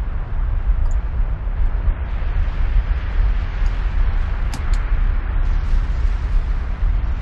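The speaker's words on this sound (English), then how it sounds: "Oh, the explosions are still happening over there." Continuous explosions from TNT detonating in the Minecraft video game, a dense, steady roaring rumble that fills the whole stretch with a few brief pops near the middle and no talk.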